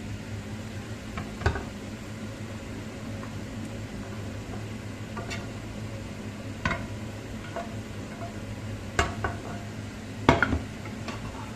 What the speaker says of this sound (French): On mélange tout et tout on mélange